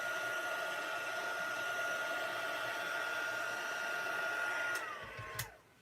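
A heat gun blows steadily and loudly while melting embossing powder for gilded leafing, a constant airy roar that is clicked off near the end and winds down.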